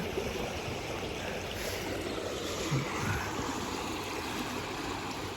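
Constant rushing of a fast-flowing high river near a bridge, a steady broad roar with no pauses, moderately loud and fairly close.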